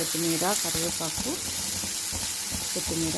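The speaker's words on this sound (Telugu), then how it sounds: "తర్వాత కొంచెం వెన్న వేసుకుంటూ అన్నీ ఫ్రై చేసుకోవాలి" Tomato pieces frying in butter for brinjal chutney give a constant bright sizzle and hiss, while someone talks over it in bursts.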